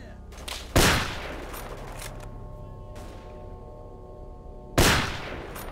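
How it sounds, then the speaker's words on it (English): Two loud gunshot blasts, one near the start and one near the end, aimed at the player in STALKER: Call of Pripyat, with quieter background game noise and faint voices between them. "Who's trying to shoot me? Are you trying to shoot me over here?"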